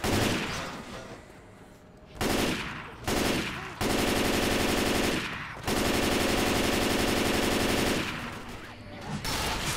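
Automatic gunfire in Left 4 Dead 2 rattles in long, loud sustained bursts separated by brief pauses, dense and close throughout.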